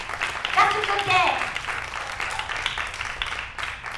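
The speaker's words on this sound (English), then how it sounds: "Now, could somebody clap?" An audience at a women's church conference breaks into brief applause, a moderate burst of clapping that fades over a few seconds while a speaker's voice carries over it.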